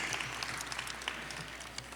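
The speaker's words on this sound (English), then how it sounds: "One more round of applause." Applause from the crowd at a chamber of commerce annual meeting, a soft, continuous patter of many hands heard from a distance and fairly faint throughout.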